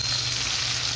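Drumsticks frying in hot oil with salt and turmeric, giving off a steady, close, dense sizzle with no pauses.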